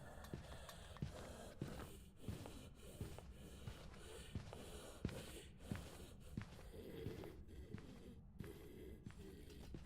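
Raspy, heavy ghost breathing from the horror video game Phasmophobia, a steady rhythm of snorting, wheezing breaths repeating about every half second, fairly close and alone with no talk.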